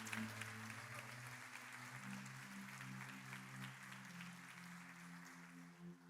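A church congregation applauds during a sermon, sustained clapping over a held musical tone from keyboard or organ, continuing evenly for several seconds.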